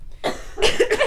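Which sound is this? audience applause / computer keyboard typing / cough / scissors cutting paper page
cough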